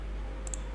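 A computer mouse gives a quick double click, two sharp faint ticks close together over a low steady hum, with no voices.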